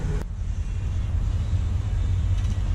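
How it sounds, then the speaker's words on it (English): A truck engine idles with a new catalytic converter on the exhaust, giving a steady, fairly quiet low rumble that continues throughout. "Well, the truck is running. It's got a catalytic converter on it, and honestly, it does sound a lot quieter."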